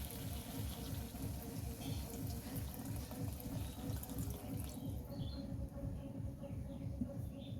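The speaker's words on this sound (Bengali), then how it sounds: "পরিমাণ মতো দিয়ে দেবো জল" Water pours steadily into a cooking pot while a village-style fish curry with potatoes is being made, a continuous close splashing flow that thins out toward the end.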